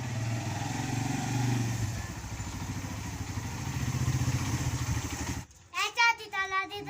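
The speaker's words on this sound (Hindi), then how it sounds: "भाई मुकल्लफ की बाइक जो है ना वो बिल्कुल ज़बरदस्त जो है ना वो चल रही है।" A motorcycle running along a road gives a steady close engine drone for most of the clip before it cuts off and voices follow.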